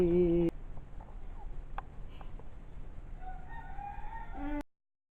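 Chickens at a poultry farm cluck softly and intermittently over a low rumbling background, with a short rooster-like call at the start and a few higher squawks toward the end, fairly quiet and distant.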